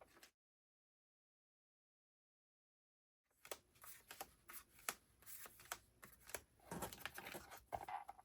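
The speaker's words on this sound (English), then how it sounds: "we're just going to try to separate the cards from the paper" Cards and paper are sorted and shuffled by hand while organizing supplies: a brief rustle, a few seconds of silence, then a dense run of crisp, close flicking, riffling and papery shuffling.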